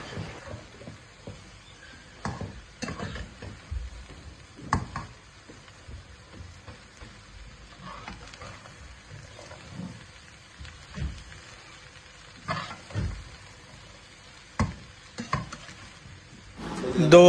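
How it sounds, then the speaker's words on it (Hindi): A grated medium cabbage and mixed vegetables are stirred in a pan, giving irregular scraping and tossing bursts over a soft, steady sizzle, fairly close with no talking. "इन सब सब्जियों को अच्छी तरह मिक्स कर लें।"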